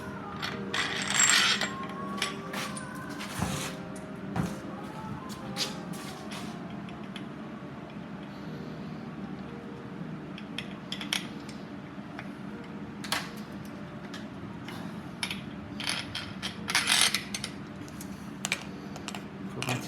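Ratchet clicking while a nut is loosened on a torsion rod installation tool, with scattered light mechanical clicks and taps over a low steady background hum, close and moderately quiet.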